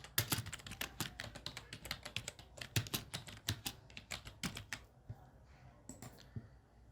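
Java code is typed on a computer keyboard in a close, rapid run of clicking keystrokes in uneven bursts, which thin out and stop near the end.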